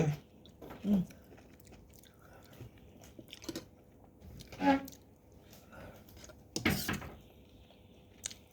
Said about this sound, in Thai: วันนี้จะมากินแกงเห็ดขมนะคะ